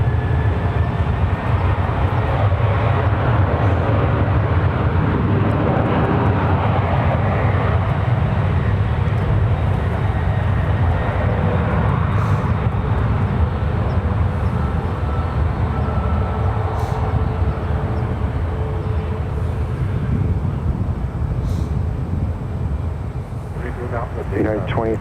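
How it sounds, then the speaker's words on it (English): A 20-year-old Delta Airlines Boeing 737-800 departing San Francisco International Airport for Seattle, a loud continuous jet engine roar that holds steady and eases slightly near the end, with voices talking over it. "Here goes Delta Airlines 2824 up to Seattle. It is a 20-year-old 737-800."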